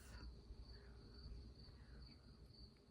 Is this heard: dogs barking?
no